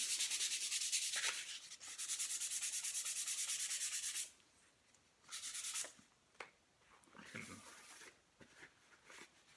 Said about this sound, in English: Just a light sanding on both sides is all you really need.